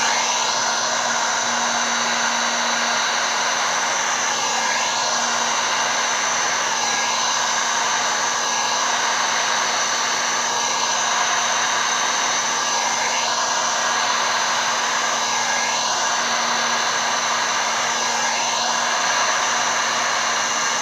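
Steady, loud whoosh of a heat tool blowing hot air over a glitter craft project, continuous and unbroken for about twenty seconds with no talk.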